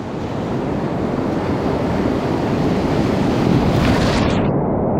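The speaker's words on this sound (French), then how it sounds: "Il y a quand même quelques petites vagues. Quelques bonnes vagues même. C'est ça qui faisait du bruit." Waves on an Amazon river wash and churn loudly and close, a constant broad rushing surge mixed with heavy wind buffeting the microphone, with no talking.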